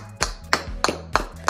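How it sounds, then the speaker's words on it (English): Hand clapping in a toy shop setting: about five sharp, evenly spaced claps, close and crisp, over a faint steady tonal background. "I'm clapping."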